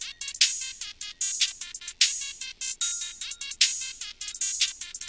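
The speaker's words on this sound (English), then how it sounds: "it's pretty much nothing but the cymbals, and you can hear the high end of the snare" A hip-hop beat made in FL Studio is heard with only its high band left, so crisp cymbals and the bright top of the snare tick in a steady, driving rhythm with no bass or body.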